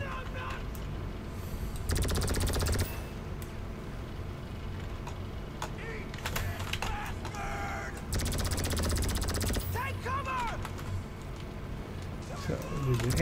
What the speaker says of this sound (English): Who's shooting at me? Who's shooting at me?